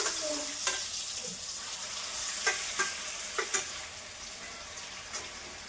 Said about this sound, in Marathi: चांगली भाजून घ्यायची पेस्ट